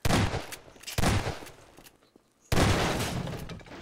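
Bursts of SMG gunfire from Garry's Mod Prop Hunt, loud and close: a long rattling volley, a second burst after a brief gap, then a short pause and another sustained volley.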